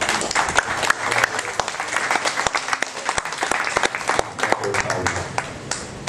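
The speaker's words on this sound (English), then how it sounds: "Once again, a big round of applause to our past master." Loud, continuous applause from a large crowd at a Masonic lodge gathering, clapping steadily from start to finish.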